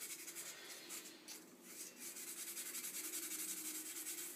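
Fine-grit sandpaper rubs back and forth over an acid-etched steel knife blade, a steady close rhythmic scratching with even strokes and no talking.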